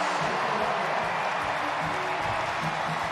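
Stadium crowd at a women's T20 international cricket match, England v Australia, cheering and applauding after a six, a steady dense roar of many voices and clapping held throughout.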